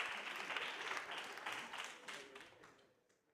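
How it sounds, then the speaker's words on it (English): Audience applause for colleagues at a city-government retreat session, a dense spread of clapping that holds steady and then fades away toward the end, heard alone. "An applause to the colleagues."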